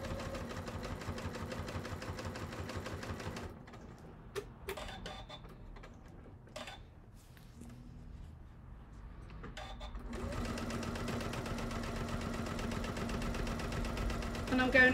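Sewing machine running a quarter-inch basting stitch around a fabric bag panel, a steady fast mechanical whir that pauses midway with a few clicks, then resumes; close, with no voice on top.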